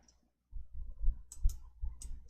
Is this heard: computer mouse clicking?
yes